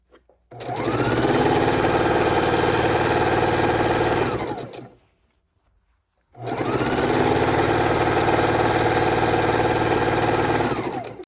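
A sewing machine runs steadily while stitching long quilt border strips together with quarter-inch seams, in two loud, continuous bursts of about four seconds each, separated by a brief pause, with no talking.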